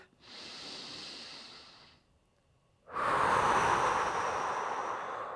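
Slow, deep breaths taken during a relaxing full-body stretch, one long airy exhale, a pause, then a stronger inhale, close and clear with no talking.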